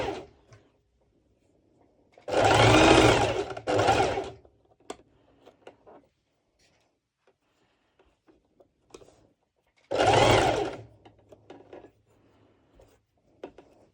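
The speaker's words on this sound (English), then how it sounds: "I will go to my serger and I will actually serge it as well" A serger overlock machine stitches an edge of mesh fabric for a halter-neck top in two loud, steady motor bursts, the first about two seconds long and the second shorter, with quiet handling noises between them.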